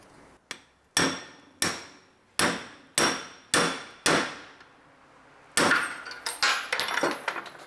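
Hammer blows drive a socket onto a seal on a BMW E46, about eight sharp metallic strikes in a steady rhythm, close and loud, with a flurry of quicker, lighter taps toward the end.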